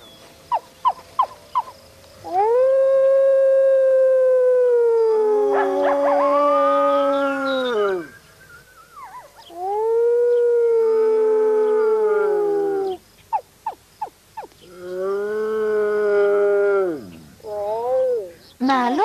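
A wolf howls in long, rising and falling wails, three or four sustained calls separated by short pauses, loud and close, with yips and short barks in between and crickets in the background.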